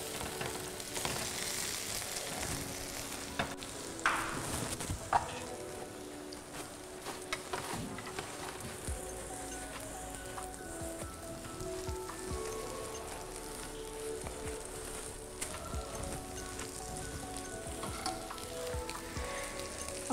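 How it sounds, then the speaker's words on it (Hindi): Eggplant slices fry in hot oil with a steady, dense crackling sizzle that carries on throughout, punctuated by occasional faint clicks of turning, close and even in loudness, with no talking. "जब तक हमारे बैंगन फ्राई हो रहे हैं हम इसको बार बार पलटेंगे ताकि जले नहीं"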